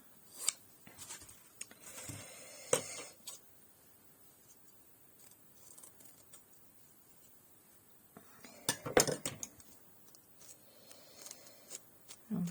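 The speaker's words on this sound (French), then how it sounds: "je donne des coups de ciseaux dedans" Sharp snipping bursts of scissors cutting paper, a few quick clusters with quiet pauses between, close by and fairly faint.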